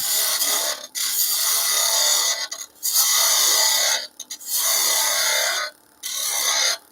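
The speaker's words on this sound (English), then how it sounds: "So we can use the gouge." Gouge cutting wood on a lathe while turning a bird-shaped box: a close, steady hissing rasp in four long passes, each broken by a short quiet gap as the tool lifts off.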